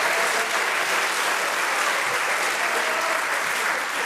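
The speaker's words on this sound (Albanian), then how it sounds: "Wow, pra, kjo duartrokitje e fort." A television studio audience applauds loudly during an Albanian entertainment show, steady dense clapping that fills the whole moment with no talk over it.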